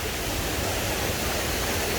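Albanian waterfalls near Himarë, heard as a steady, loud broadband rush of falling water with no breaks, filling the whole moment without any voices.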